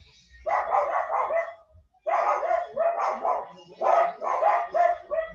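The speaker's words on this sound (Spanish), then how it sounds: "Hay mucho ruido de estos perros." Several dogs bark outside in repeated clustered bursts, fairly close and loud, with a brief pause between volleys and no talking over them.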